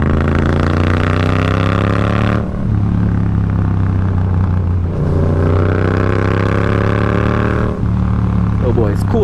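A Yamaha MT-07 motorcycle fitted with a new exhaust accelerates hard and close, its engine note climbing steadily through the gears with a few quick shift breaks, while a rider talks over the engine.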